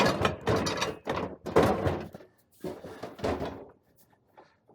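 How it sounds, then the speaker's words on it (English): An oven drawer is lifted and slid back onto its guides, giving a series of close, bumpy scraping slides and thuds separated by short pauses, with no talking. "we'll go ahead and put our drawer back in"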